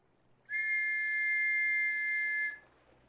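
A single sustained whistle blast blown in the ArmA military video game, a steady bright two-tone note held for about two seconds, loud and alone against a quiet background.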